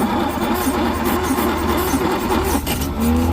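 A 1960 Jaguar S-Type with a 3.8-litre engine, running for the first time in eight years. It idles loudly and steadily up close, with a brief rev near the end.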